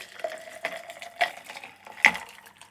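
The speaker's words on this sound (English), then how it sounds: "Just pour that all in." A rum cocktail with Monin apricot syrup is dumped from a shaker with its ice into a glass: a short, close trickling pour with small splashes and a sharp clink near the end.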